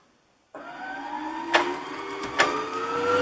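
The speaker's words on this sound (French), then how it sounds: "je choisis de remplir ma bobine complètement, de remplir ma canette complètement" A Brother Innovis A16 sewing machine starts abruptly and winds a bobbin, a rising mechanical whine and hum that speeds up steadily, with two brief clicks along the way, close and alone.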